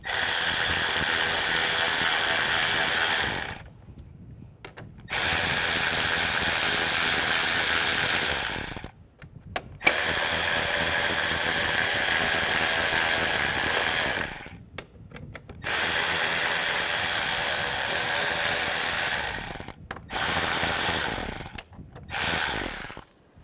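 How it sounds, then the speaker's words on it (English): Power tool or ratchet loosening several bolts on a 2005-2010 Chevrolet Cobalt during clutch slave cylinder work, loud whirring bursts of a few seconds each separated by short pauses, close and alone. "Take all these bolts, loosen those all up"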